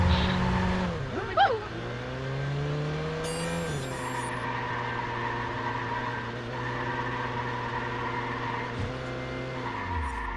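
A car driving in the Watch Dogs video game, its engine droning steadily with a brief squeal near the start, a rising rev, then a long even hum for ten seconds.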